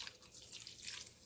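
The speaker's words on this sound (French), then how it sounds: "Je vais ajouter de l'eau." Water poured into a food mixture while cooking an African dish, a soft steady trickle and splash, faint and close, with no talk over it.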